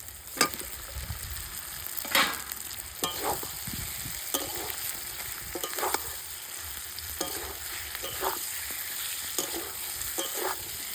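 Pre-fried potatoes stirred and frying in a kuche fish curry gravy: a steady sizzle under repeated scraping strokes of a spatula, close and continuous, with no voices.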